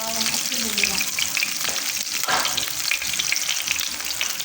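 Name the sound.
sautéing garlic and onion in a pan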